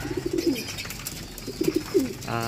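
Racing pigeons coo close by, two short bursts of throaty rolling calls separated by a brief pause, with no talking.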